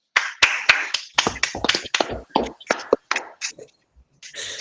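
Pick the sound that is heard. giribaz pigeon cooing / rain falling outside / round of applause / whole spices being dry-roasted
round of applause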